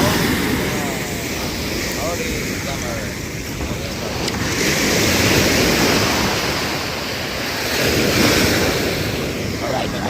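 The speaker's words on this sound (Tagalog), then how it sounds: "Grabe, lalaki ng alon." Large ocean waves roar in a continuous, loud wash of surf that swells and recedes, heard up close with heavy wind buffeting the microphone.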